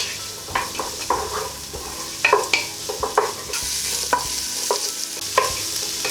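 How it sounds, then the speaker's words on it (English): Sweet potato and butternut squash pieces are stir-fried in a hot pan with a wooden spoon, giving a steady sizzle broken by irregular scraping taps and knocks, close by with no voices. "wooden spoon and just stir fry that for 3 or 4 minutes, just until both of them start to soften and become quite fragrant"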